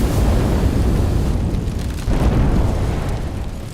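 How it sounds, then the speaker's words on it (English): Hydrogen gas exploding after meeting a spark, a loud, rolling roar of rumbling blast that swells, dips briefly, then surges again before slowly fading. "it explodes."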